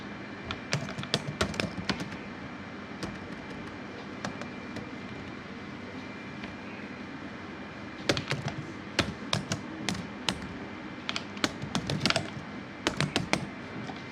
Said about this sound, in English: Just I'm typing Google here.